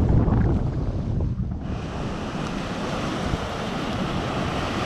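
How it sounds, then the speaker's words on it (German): Steady roar of long ocean swell waves and surf off Mexico's coast mixed with heavy wind buffeting, continuous and fairly loud with no voices. "Also sehr langgezogene Wellen"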